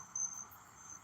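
Crickets chirp in a steady high-pitched trill that runs through the whole second, briefly louder near the start, with no talking over it.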